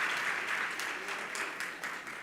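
Audience clapping at a religious discourse gathering, a steady wash of many hands applauding at moderate distance, fairly faint and continuous throughout.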